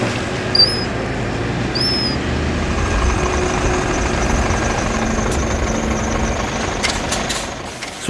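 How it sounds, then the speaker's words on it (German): A truck's engine idles and rumbles steadily up close as it pulls in under a sugar beet loading conveyor at a beet pile in Innviertel, with a few faint bird chirps above the drone. "Nachdem der volle LKW abgefahren ist, stellt sich der nächste unter das Förderband."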